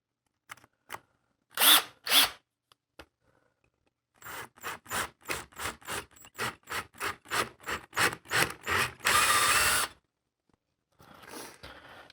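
Power drill boring an 8 mm hole into a pine guitar body at a pre-drilled pilot hole, heard as a rapid series of short whirring bursts followed by one longer sustained spin, close and clear with no talking.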